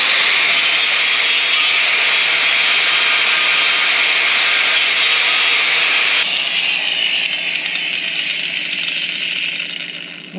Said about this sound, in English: We'll grind that off.